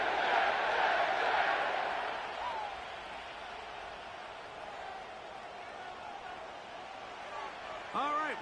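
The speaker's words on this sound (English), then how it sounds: "The crowd is definitely ready." Stadium crowd roaring at MetLife Stadium in the Madden 25 football video game, loud at first and then easing into a steady, distant murmur.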